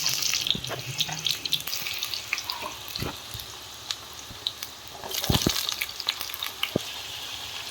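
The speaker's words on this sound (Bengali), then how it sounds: "আলুটা এখন ভেজে নিচ্ছে।" Potatoes frying in mustard oil in a wok, a steady close sizzle with occasional clinks and stirring knocks throughout, no talk.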